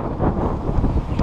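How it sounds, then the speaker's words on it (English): Strong coastal wind buffets the microphone in a steady, loud low roar with gusts, at a waterside spot where herring are being fished. "Gee, it's windy."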